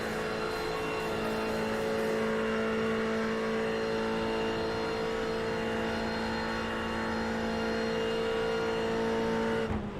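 Race cars in a sim racing game, a Ferrari and a BMW grand touring car at Le Mans, roar steadily and loudly at high revs throughout, engine tones holding strong and continuous with no talk over them.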